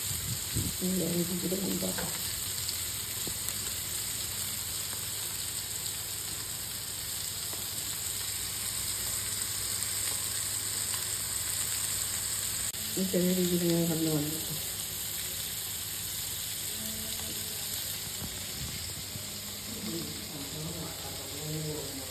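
Mackerel frying in oil in a tilted pan, a steady sizzling hiss that carries through the whole stretch while a voice speaks in short bursts over it.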